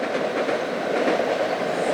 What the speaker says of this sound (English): And there's a train.